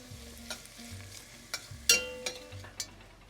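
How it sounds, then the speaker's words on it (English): Bacon fries in a pot for corn chowder with a quiet, crackling sizzle, broken by a few clicks of stirring. A low, steady hum or music sits faintly underneath. "we're going to watch our bacon for about, I would say, 8 minutes to get this brown and delicious"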